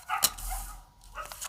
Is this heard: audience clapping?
no